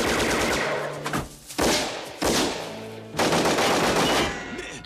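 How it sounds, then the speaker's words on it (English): Loud gunfire in a 1995 action-movie shootout, with heavy rapid volleys broken by two short gaps and no talking. "you guys were parked in the middle of a shootout"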